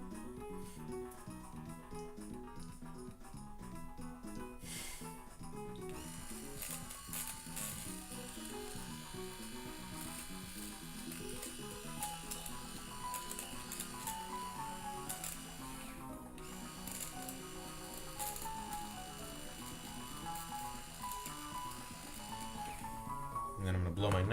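Electric trimmer buzzing steadily while cutting nose hair, reaching toward the back of the nostril, running continuously under game music and ongoing talk.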